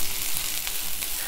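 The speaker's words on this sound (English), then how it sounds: "I'm just going to lightly stir fry this or saute the shallots until it's slightly softer" Shallots stir-frying in a pan, giving a steady close-up sizzle and crackle of hot oil throughout, with no talking.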